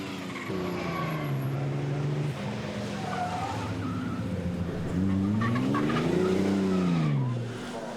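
A Riley 12.4 Special race car, built on a shortened 1932 Riley 9 with a 12.4 engine and gearbox, runs at the Chateau Impney hillclimb, its engine note rising and falling loudly and steadily throughout, with a tire squeal in the mix.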